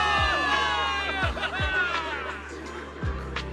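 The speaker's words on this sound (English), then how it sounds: "Give it up for yourselves, soldiers! Cheer for victory!" A crowd of soldiers cheers and shouts loudly for victory throughout, a dense roar of voices with repeated low thumps underneath, in the video game Zenless Zone Zero.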